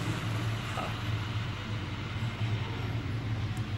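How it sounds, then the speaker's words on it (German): Model railway trains running on a large miniature layout at Fürther Miniaturwelten in southern Germany, a passenger train and a freight train passing together as a steady low rumble and rolling hum amid a busy exhibition hall ambience. "Hier ein sehr klassischer Personenzug, der fährt auch rum, wird hier überlagert gerade von dem Güterzug"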